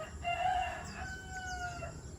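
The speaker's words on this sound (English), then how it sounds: "There's a friendly rooster." A rooster crows once at moderate distance in the rural Philippines, a drawn-out call rising and falling, with faint clucking and outdoor background around it.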